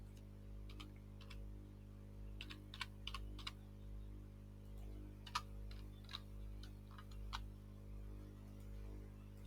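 Someone types an item name on a computer keyboard: soft, irregular keystrokes arrive in small clusters over a steady electrical hum, recorded close and quiet.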